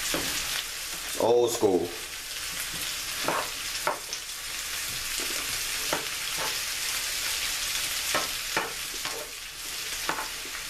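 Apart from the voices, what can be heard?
home fried potatoes with onions frying and being stirred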